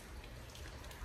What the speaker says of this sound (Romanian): Să vedeți plouă așa încet